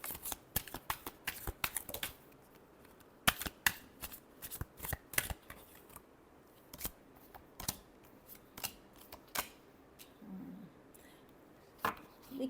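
Tarot cards being shuffled by hand, a rapid run of crisp riffling flicks and slaps that start dense, then thin into separate snaps, close and quiet with no voice.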